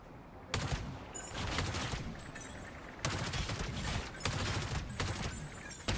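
Automatic rifle fire from the Cyberpunk video game, delivered as loud, sustained rapid bursts that run almost without a break across the whole stretch, with brief dips between the volleys.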